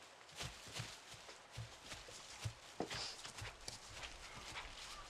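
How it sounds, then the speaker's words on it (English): Hooves clip-clop on hard ground in an uneven walking rhythm, fairly faint, with a little background movement. "We just need to load these horses and just wait for Neely to meet us with the pack horses"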